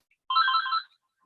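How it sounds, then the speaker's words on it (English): A phone ringtone plays once, a short bright electronic trill lasting about half a second, fairly close in an otherwise quiet meeting room. "I just got a phone call."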